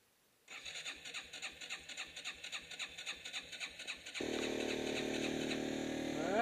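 A motorbike starting outdoors on a snowy night: a rapid, pulsing starter crank for several seconds, then the engine catches and settles into a loud, steady idle close by.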